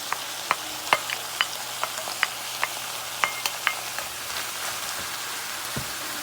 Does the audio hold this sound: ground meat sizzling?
yes